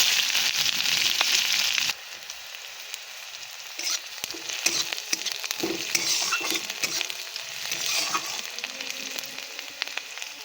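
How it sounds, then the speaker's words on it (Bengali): Chopped onion dropped into hot oil already seasoned with dried red chillies, bay leaf and panch phoron for an egg curry: a loud, dense sizzle that settles after about two seconds into steady crackling with stirring scrapes. "এবার দিয়ে দেবো পেঁয়াজ কুচি।"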